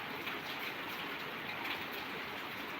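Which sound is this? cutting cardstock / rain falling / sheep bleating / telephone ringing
rain falling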